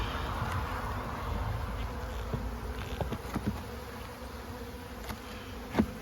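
A honeybee colony in a boosted hive buzzes as a constant dense drone, with occasional individual bees passing close by.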